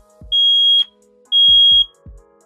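A Nest Protect 2nd Gen smoke alarm sounds during a smoke test: two loud, piercing, sustained high beeps, each about half a second long, with soft thuds around them.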